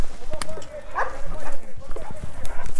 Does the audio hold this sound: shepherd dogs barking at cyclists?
yes